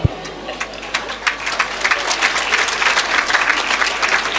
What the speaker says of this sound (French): Je voudrais que vous applaudissiez d'abord avant que je puisse commencer mon discours.